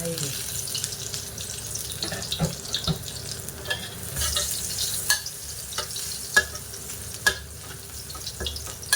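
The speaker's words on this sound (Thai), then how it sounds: "เพื่อความหอมเราก็จะทอดขิงก่อน เสร็จแล้วก็ใส่กระเทียมสับลงไป" Ginger and minced garlic fry in hot oil in a pan, a steady close sizzle broken by scattered clicks and scrapes of stirring, with faint speech now and then.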